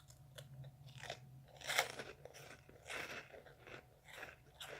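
A crunchy snack from a food subscription box is chewed close to the mic, with a run of crisp, irregular bites and crunches, quiet and alone with no talk over it.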